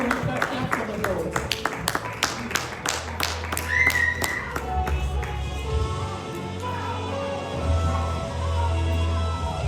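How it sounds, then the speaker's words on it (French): Congregation at a church service clapping in uneven bursts of sharp hand claps, fairly close, with voices talking and a low rumble underneath, the clapping thinning out toward the end. "As he's coming, we'll clap for the Lord."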